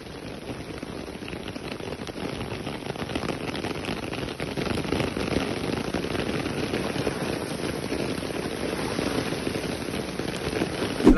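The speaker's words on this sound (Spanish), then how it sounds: "en San Lucas está cayendo granizo" Hail falling from the sky in San Lucas, a steady dense rattling patter of stones striking surfaces, continuous and fairly loud throughout with no voices.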